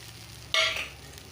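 Pieces of hilsa fish drop into hot oil in a home kitchen with a brief loud sizzling burst, which settles quickly to a quieter fry.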